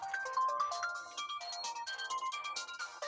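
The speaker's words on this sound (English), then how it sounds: "my phone's ringing." A mobile phone ringtone plays continuously, a bright melodic electronic tune of repeating tones at steady moderate loudness, with no talking over it.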